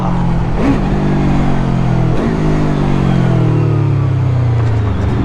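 A QJ SRV 600 motorcycle pulls away with loud, close engine revs, dipping twice between brief gear changes before the tone rises and stretches out again under constant rushing wind.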